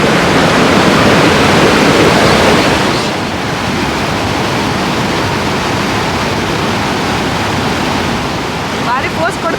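The Tunga river rushes over rocks in a loud, dense roar heard from mid-stream, steady throughout and easing slightly after the first few seconds.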